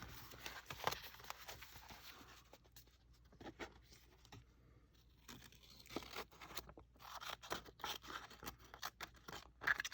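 Scissors snipping through paper for a mixed media journal, a run of quick, close, uneven crunching cuts with a brief quieter pause in the middle, no voices.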